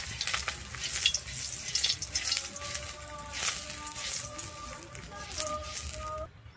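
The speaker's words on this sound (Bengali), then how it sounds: "আমি কড়াইতে কিন্তু সর্ষের তেল দিয়ে দিচ্ছি" Mustard oil sizzles steadily in a wok while a banana stem brushes it across the surface, a close, continuous hiss with soft scraping strokes and a brief faint voice.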